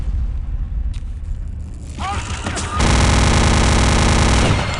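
The Venom rotary machine gun firing in Return to Castle Wolfenstein, a sustained, loud, buzzing stream of rapid shots after a brief spin-up and a few scattered sounds.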